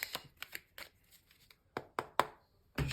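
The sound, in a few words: shuffling tarot cards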